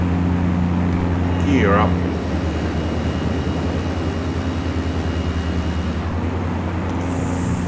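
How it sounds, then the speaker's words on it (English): A Camair 480 Twin Navion in Microsoft Flight Simulator drones steadily with a constant twin-engine hum as it takes off. A person talks over the engine noise throughout. "Alright, we'll take it to full for takeoff."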